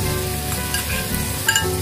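Chicken meat being stir-fried in a cabbage, chicken and mushroom dish with garlic and ginger, giving a steady, close sizzle with stirring scrapes throughout and a brief louder flare near the end, with no talking.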